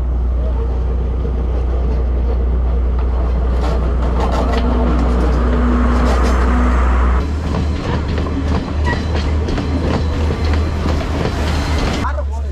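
A train rolls across the Nine Arch Bridge in Ella, Sri Lanka, a steady loud rumble of wheels and carriages with clattering rail noise throughout, growing harsher in the second half, with faint voices mixed in.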